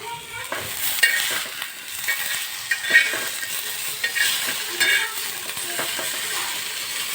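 Ginger sizzles and fries in a pan while being stirred, a steady close hiss with scraping stirs and occasional light clinks of a utensil against the pan, no voices.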